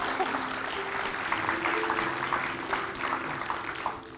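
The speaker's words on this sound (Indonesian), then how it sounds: "Tepuk tangan dong buat Kak Cika." A burst of clapping from a small group, steady and moderately loud, with some chatter mixed underneath.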